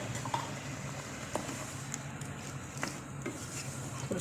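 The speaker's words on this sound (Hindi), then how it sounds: "और उसको भूनते जाएंगे अब हम।" Beef karahi fries in oil with a steady soft sizzle, accompanied by the scrape and clink of a spoon stirring in the pan, close and continuous without voices.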